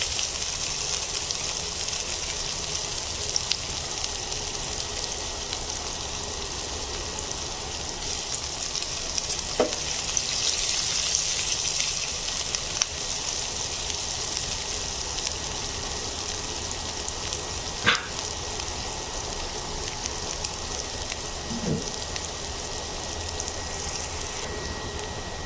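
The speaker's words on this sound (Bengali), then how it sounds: "পেঁয়াজগুলো আমি একটু সামান্য ব্রাউন করে ভেজে নেব" Onions fry in oil in a pan for a Bengali chicken and bottle gourd curry, a steady close sizzle that runs throughout with a few faint clicks of stirring.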